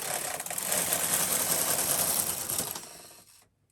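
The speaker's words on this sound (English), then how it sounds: "take the transfer carriage across with both hands firmly on the handle and in one swift" A Brother KA-8300 rib transfer carriage pushed across a knitting machine's needle bed in one swift pass, giving about three seconds of loud, whirring mechanical clatter that cuts off sharply into silence.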